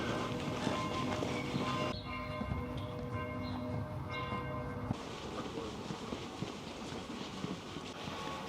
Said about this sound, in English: I hear bells in the distance.